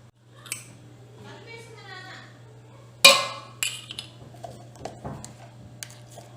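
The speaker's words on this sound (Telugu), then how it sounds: "ఇందులో cornflour, maida, ginger garlic paste and salt వేసి నేను మిక్స్ చేసేస్తాను" Manchurian ball mixture of vegetables with cornflour, maida, ginger garlic paste and salt being stirred in a bowl, with scraping and a loud clink of utensil against the dish, followed by softer taps and clatters.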